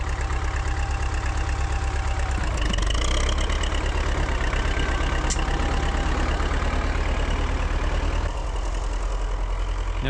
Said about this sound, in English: I really like that engine sound, honestly.